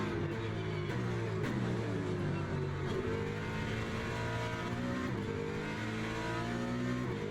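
Race car engines in the Le Mans Ultimate sim racing game, including a Mustang, drone and rev steadily in online racing, with shifting harmonic tones and no voices heard.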